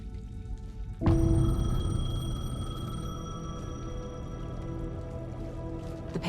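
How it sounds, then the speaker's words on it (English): A payphone in the video game Alan Wake 2 starts ringing with a sudden, sustained electronic tone over a low, murky ambient drone, continuing steadily to the end. "The payphone was ringing."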